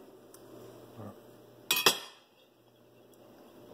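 A knife cuts through a fresh tomato. A pair of sharp metallic clinks from the blade striking a hard surface comes midway through; the rest is quiet with faint handling sounds.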